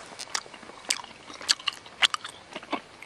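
Gum is chewed close to the microphone, giving soft, irregular wet clicks and smacks, quiet and alone, with no talking.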